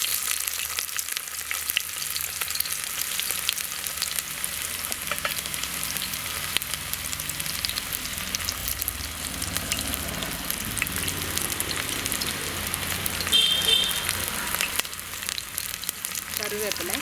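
Garlic cloves and chopped shallots frying in oil for garlic rasam, a steady close sizzle and crackle running the whole time with a few faint stirring clinks and no speech.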